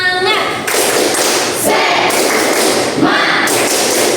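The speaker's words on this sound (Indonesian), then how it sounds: "kita tepuk semangat dulu ya" An Indonesian school audience performs a rhythmic spirit clap, sharp loud unison hand claps in a patterned sequence with brief pauses between bursts, and voices can be heard between the claps.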